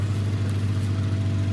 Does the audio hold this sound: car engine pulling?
yes